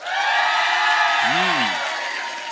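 A live comedy-podcast audience in Chicago cheers, whoops and makes noise in a dense, sustained roar that stays loud throughout, with a single voice briefly calling out over it.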